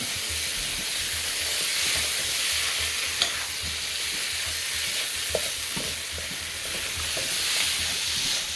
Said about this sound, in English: I'm going to saute that just a little bit to bring out the flavor in it.